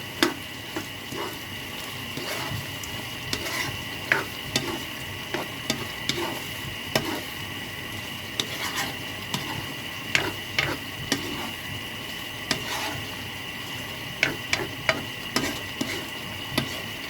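A dish with bay leaf stirred in a pan, a spatula tapping and scraping at an irregular pace over a steady low sizzle, close and moderately loud, with no talking.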